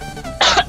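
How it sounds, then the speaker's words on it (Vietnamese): A single sharp, loud cough bursts out close to the microphone over faint background game sounds. "Mình đang bị ho."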